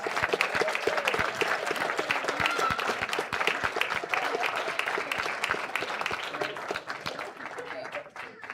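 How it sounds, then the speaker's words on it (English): A church congregation applauds its teachers with a steady wash of many hands clapping, and distinct individual claps are heard throughout before the applause thins out at the end. "let's give a round of applause to our teachers"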